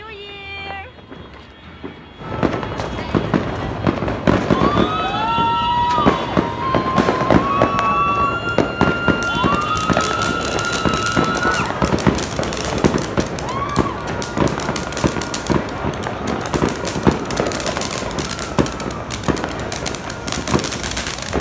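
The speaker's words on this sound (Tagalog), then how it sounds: "We are going to make some fireworks." New Year fireworks crackle and pop in rapid, dense bursts after a quiet start, with whistling rockets rising early on, going on continuously at moderate distance.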